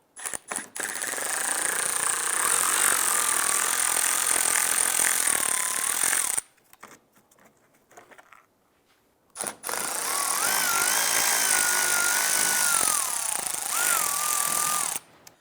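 A power tool, apparently an electric impact driver or ratchet, removes 7/32 screws from the front bumper of a 2011-2019 Ford Fiesta. It whirs loudly and steadily for several seconds, stops in a quiet gap, then runs again at close range.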